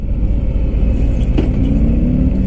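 A 2018 Harley Davidson Fat Bob motorcycle engine rumbles steadily at close range, a deep, loud low-end throb held without a break.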